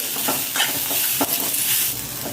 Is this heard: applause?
no